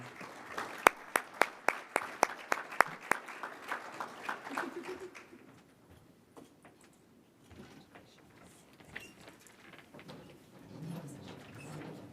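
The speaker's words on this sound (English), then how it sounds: "Let's give everyone a big round of applause" Audience applause for conference finalists at an optics awards event: a burst of sharp individual claps early on, then a softer, scattered patter that fades toward the end.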